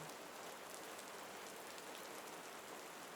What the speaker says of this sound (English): the rain comes to fall in curtains, filling the countryside with a tingling white noise